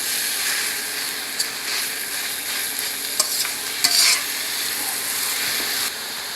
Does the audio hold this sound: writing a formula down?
no